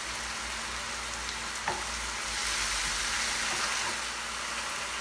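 Mushrooms sauté in a hot pan with finely chopped garlic and parsley, giving a steady, close crackling sizzle throughout, with a light clink partway through.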